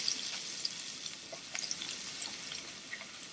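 Potatoes fry in oil in a pan with a steady, close sizzle and scattered small crackles and pops, with no voices.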